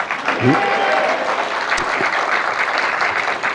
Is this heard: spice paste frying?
no